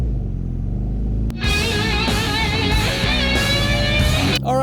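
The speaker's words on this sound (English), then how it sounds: "let's go for a ride in a 1999 Mini 40 MPI with John Cooper Works kit on it" A 1999 Rover Mini 40 MPI with a John Cooper Works kit drives along, its engine droning loud and close after a rumbling idle, rising and falling in pitch through steady acceleration.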